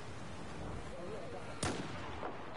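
A single sharp sniper rifle shot rings out in Battlefield 4, a loud crack with a short tail, set against a steady wash of distant battlefield noise, followed by a fainter second report.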